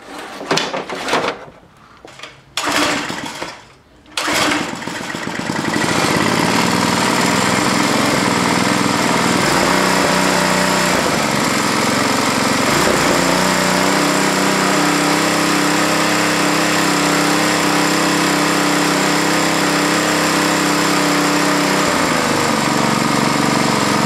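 After a few knocks and clunks, a small Briggs & Stratton lawnmower engine starts and runs loudly and steadily nearby, its pitch wavering slightly as it idles on.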